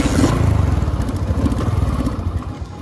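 A Hero Honda CD100ss motorcycle engine runs close by with a rough, chugging rumble and rapid throbbing pulses, loud and steady before fading slightly at the end.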